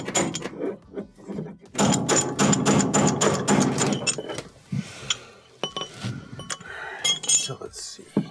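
Hammer striking a bearing tool to knock loose the tub bearing of a Whirlpool washer, a quick series of loud metallic clanks in a rapid rhythm, then scattered clinks and shuffling, with a voice talking softly in between.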